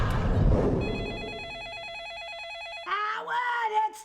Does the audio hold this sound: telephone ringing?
yes